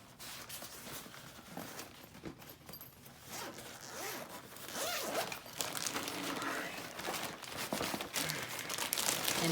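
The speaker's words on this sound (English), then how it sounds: "Zipper." A zipper on a 19-inch ring light kit's case is pulled open in several long rasping strokes, close up, mixed with crinkling packaging.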